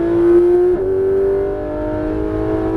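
A Porsche 991 GT3 RS on track at Alès circuit under full throttle, its high-pitched engine note steady and loud, dipping briefly as it shifts, then carrying on strongly.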